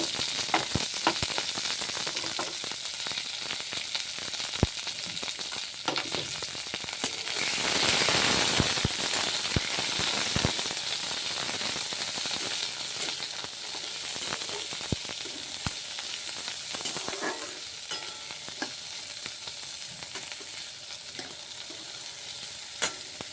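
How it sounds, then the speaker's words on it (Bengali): Peas, green chilli, carrots and beans frying in a pan with a pinch of asafoetida for mung dal, a loud continuous sizzle with crackling pops and a sharp hissing burst partway through, heard up close. "এরপর আমি কেটে রাখা মটরশুঁটি, কাঁচা লঙ্কা, গাজর আর বিনস দিয়ে একটু ভাজবো।"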